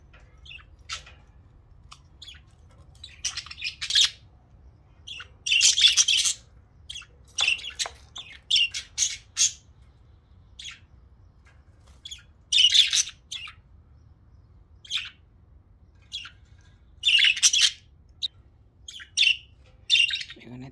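Pet budgies outdoors in an aviary chirp and squawk in repeated bright bursts, some close and loud, with quiet gaps between calls and no talking.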